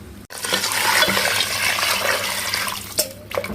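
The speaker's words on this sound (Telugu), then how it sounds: "ఈ తలకాయ ముక్కలను బాగా నీళ్లు పోసుకొని ఒక 2-3 సార్లు బాగా కడుక్కోవాలి." Goat head pieces being washed in a bowl as water is poured over them, giving a steady, close rush of splashing water that ends with a few small sloshes.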